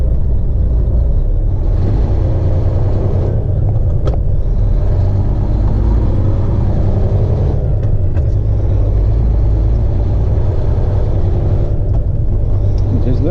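A heavy haul truck reverses into a spot beside a raised Chevy pickup near Interstate 69 in Mississippi, its engine producing a loud, continuous low rumble with slight swells and dips throughout.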